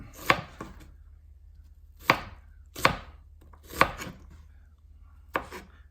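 An onion being diced with a knife on a cutting board, five or six sharp, distinct chops at uneven intervals, close and clear over quiet background.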